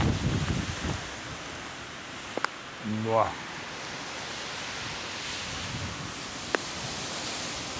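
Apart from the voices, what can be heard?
strong wind on a mountain summit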